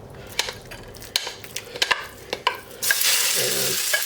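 Oil swirled in a hot wok over medium-high heat for a Sichuan pepper stir-fry, scattered clinks and scrapes at first, then a sudden loud, steady hiss of sizzling that continues to the end, close and with no voice.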